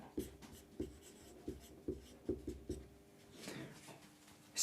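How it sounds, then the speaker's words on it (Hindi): A pen writing notes makes a quick series of about seven short, rhythmic scratching strokes, then a longer scrawl. It is close and quiet, with no speech. "अंकित मतलब नोट करते हैं, लिखते हैं"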